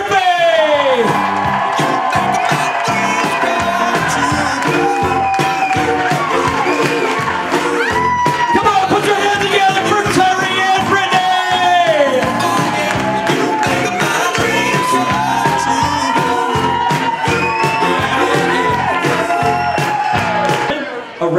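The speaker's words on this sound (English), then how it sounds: "Ladies and gentlemen, a standing ovation." A wedding reception crowd at Aldie Mansion rising in a standing ovation, with sustained loud cheering, whoops and shouted voices layered over one another for the whole stretch, fading only at the very end.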